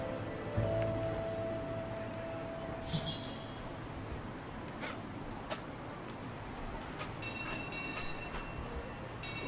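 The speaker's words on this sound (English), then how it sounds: "Let's take the tram back to the guest house." A tram ride in the Syberia video game gives a continuous low rumbling roll of rail wheels, broken by occasional metallic clinks and squeals, steady and moderately quiet throughout.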